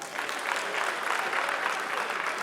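An audience claps steadily and evenly for a man being honoured for returning a lost phone, the applause dense and sustained throughout, with no voices standing out.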